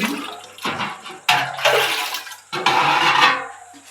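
Water gushes in three loud bursts, pouring and splashing as a container fills, with brief pauses between pours.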